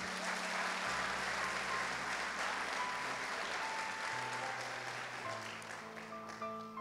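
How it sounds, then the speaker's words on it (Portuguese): Congregation applauding during a church service, dense continuous clapping from a large crowd with sustained organ or keyboard chords underneath, steady and moderately loud. "Dá um aplauso a Jesus por isso aí."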